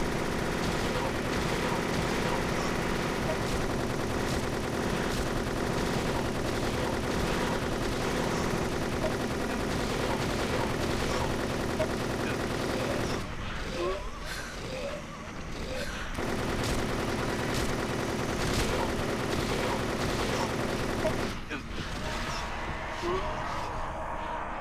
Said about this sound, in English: I whipped out my unlimited submachine gun and I went to town.